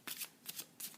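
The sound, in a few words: shuffling a deck of Hermes playing cards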